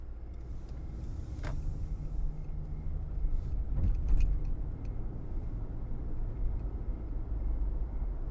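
A truck on the move, heard as a steady low engine and road rumble that stays even throughout, with a faint clink of keys or loose parts partway through and no talking.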